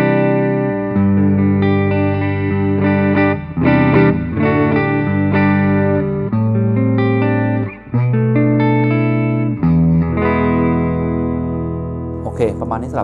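A clean electric guitar rings out through a Caline Jaguar Classic pedal and amp, single notes and chords with sustained, reverberant tone and short pauses between phrases.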